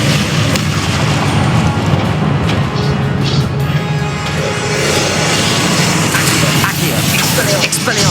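Confringo blasting spell in Hogwarts Legacy, loud booming explosions with crackling bursts layered over a dense wash of game noise and spoken spell names.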